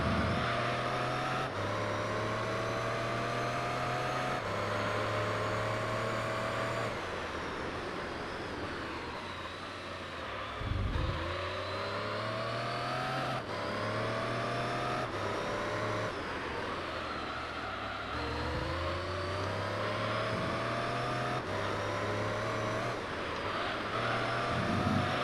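A car engine in Gran Turismo 3 repeatedly revs up and drops as it shifts gears, with pitch sweeping up through each gear and falling on deceleration, droning steadily for a long stretch without talking.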